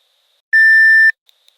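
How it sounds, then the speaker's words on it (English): A single loud, steady electronic alarm beep sounds for about half a second, then two tiny faint blips, against otherwise near silence. "The alarms suddenly went off."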